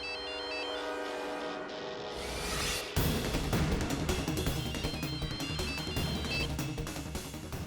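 A telephone ringtone plays at steady volume over a musical drama soundtrack, joined midway by fuller, louder background music.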